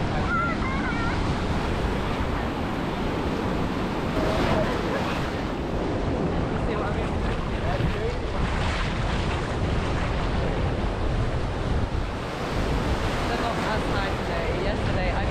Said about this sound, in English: Waves are insane here.